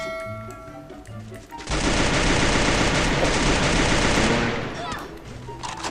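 Rapid automatic gunfire from the video game Free Fire erupts after a quieter start and bursts loudly for several seconds, then fades, with players' voices around it.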